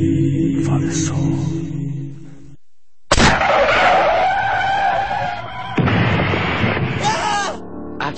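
A car crash sound effect in a radio advert: a loud screech of skidding tires, a brief silence, then a heavy crunching impact with rattling debris and a second burst of clatter, close and loud.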